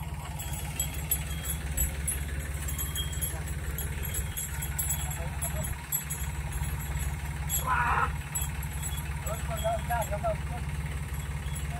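A tractor engine idles and chugs with a steady low throb throughout, close by in a farmyard. People talk over it intermittently, and a brief higher clatter rises partway through.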